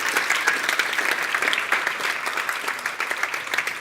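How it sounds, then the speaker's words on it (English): An audience in a hall claps together, a dense, even round of applause heard up close that holds steady for a few seconds. "Can we clap that again?"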